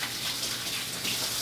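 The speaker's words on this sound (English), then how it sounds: "Let me wash my hands." Running tap water splashes steadily over hands at a sink, a continuous broadband gush with slight surges, close and fairly loud with no voices.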